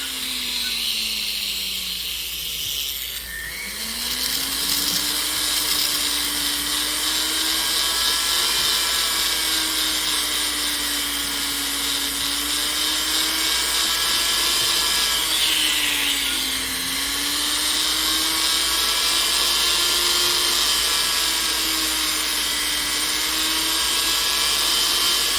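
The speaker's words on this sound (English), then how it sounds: "make sure you just use the silicone wheel" A rotary tool fitted with a silicone polishing wheel whines steadily at high speed, its pitch wavering up and down as pressure on the work changes, with a constant hiss and no talk.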